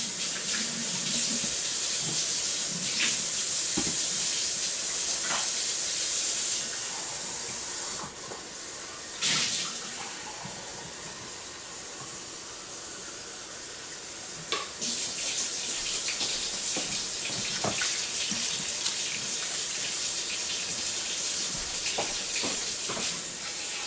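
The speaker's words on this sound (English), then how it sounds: "I have to add a cup and a half of water." Water is poured into a pot of braised pork belly, a close, steady hissing splash that runs for a long stretch, with a brief lull and a few knocks partway through.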